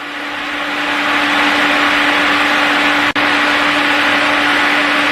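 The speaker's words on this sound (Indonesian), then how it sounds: "Ini kan ada suara kipas di bawah." A constant whirring electric stove cooling fan hum with a steady low tone runs close by, broken only by a brief click partway through; no talking.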